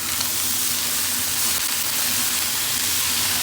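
Fish roe and finely chopped potato frying in a pan while being stirred: a steady, bright sizzle hisses continuously and fairly loud throughout, with no talking.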